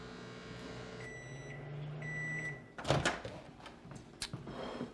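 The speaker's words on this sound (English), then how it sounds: "we'll be ready to put this in the microwave" A microwave oven runs with a steady hum while a towel heats inside, ending in a beep or two, followed by handling sounds like a door opening and close clattering.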